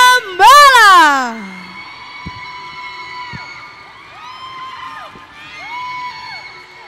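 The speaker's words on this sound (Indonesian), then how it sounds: "Beri tepuk tangan yang meriah untuk SMA Negeri 5 Malang" A school dance team from SMA Negeri 5 Malang gets a crowd cheering at a DBL dance competition, with a burst of loud, high-pitched whoops and screams up front that settles into a sustained roar of excited voices.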